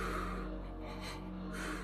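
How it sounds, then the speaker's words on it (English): A person does a calming exercise: three quick, close sniffs in through the nose followed by a longer breath out, each a soft airy puff heard alone. "the bunny breath, inhale 3 short breaths through the nose, now exhale once through the mouth"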